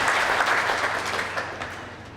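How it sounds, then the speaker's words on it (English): Full indoor crowd at an All-Ireland 40x20 handball final applauding a shot, a dense burst of clapping that gradually fades over two seconds. "Full house here in Kingsford, loving the action, applauding every shot."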